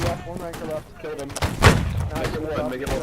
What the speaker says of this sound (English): There's a lot of, you know, a lot of musket fire and cannon fire and people yelling